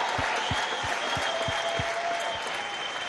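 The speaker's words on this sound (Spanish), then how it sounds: "¡Un aplauso!" Studio audience applauding on a Venezuelan presidential TV programme, a steady wash of clapping across the whole span, with a faint low rhythmic thumping underneath.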